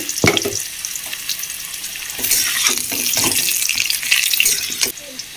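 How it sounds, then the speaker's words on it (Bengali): Cut, washed potatoes go into hot oil for mutton curry and crackle up into a loud, close, bubbling sizzle with splashy bursts after a few handling clatters, then drop off abruptly. "এখন তেলের মধ্যে কেটে ধুয়ে রেখেছি এই আলুগুলো দিয়ে দেবো ভেজে নেওয়ার জন্য"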